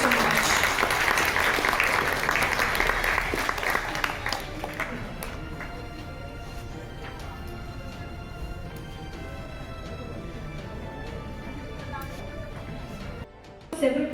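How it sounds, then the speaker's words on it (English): An audience at a ten-year anniversary celebration breaks into a loud, full round of applause that fades after a few seconds into scattered claps, murmuring and someone speaking over the room. "Everybody, can you have a huge round of applause"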